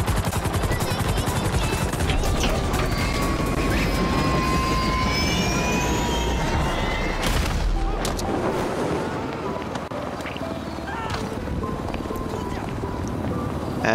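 Helicopter in GTA Online during the Cayo Perico Heist, a loud steady rotor and engine roar filling the scene, with jet-like whine, brief gunfire-like bursts, and a drop in intensity toward the end.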